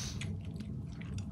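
Someone chews a crunchy, saucy chicken baguette sandwich up close, with soft wet squishing and a few brief crunchy bites over a quiet low background hum.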